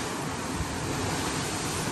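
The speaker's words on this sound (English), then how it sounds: "Oh, listen to the waves." Steady broadband rush of ocean surf heard from a cruise ship suite, continuous and fairly even with a windy, hissing quality and no voices.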